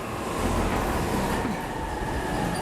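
A train runs on rails in the 13 Sentinels: Aegis Rim video game, with a continuous rumble and faint clickety-clack of railroad cars that stays steady and fairly loud throughout.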